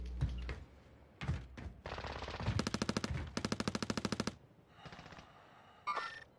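Call of Duty gunfire: several rapid automatic bursts of evenly spaced shots, mixed with single thumps and other in-game effects, close and punchy.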